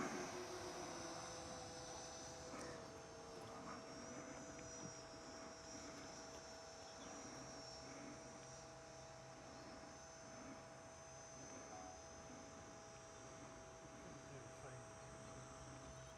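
Radio-controlled model jet on landing approach, heard as a steady distant turbine whine with faint high tones, continuous and soft against outdoor insect chirping.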